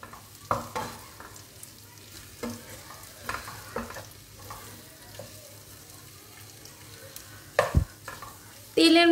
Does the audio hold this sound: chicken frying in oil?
yes